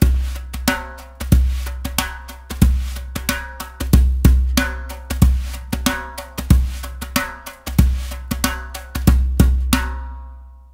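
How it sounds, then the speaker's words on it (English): The soft side of percussion brushes plays a steady rhythmic groove on a djembe, with a deep round bass tone and muted slaps repeating closely and clearly for about ten seconds. "On the djembe, the soft side sounds like this."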